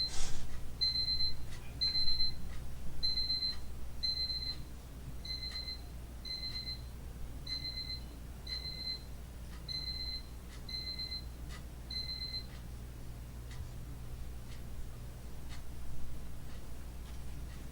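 A digital alarm clock beeps in repeated double-tone pairs for about twelve seconds, steady and fairly loud over a low room hum, then stops, leaving quiet background noise.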